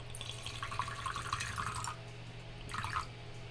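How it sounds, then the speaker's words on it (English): Wine is poured into a glass to a measured five ounces, with two soft bursts of liquid trickling, the second shorter, over a steady low background hum. "I'm going to pour until 5 ounces."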